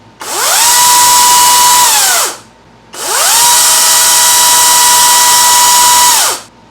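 An EGO 16-inch battery-powered chainsaw (CS1611) runs in two bursts, revving up with a rising whine, holding a steady high buzz, then winding down, with a short pause between.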